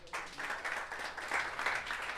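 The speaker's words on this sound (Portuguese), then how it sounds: "Aplauda a Jesus, vai." A church congregation applauds during a sermon, a soft, steady wash of many hands clapping together from a distance. It holds evenly for a couple of seconds with almost no voice above it.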